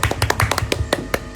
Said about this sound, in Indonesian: Tepuk tangan kali ya.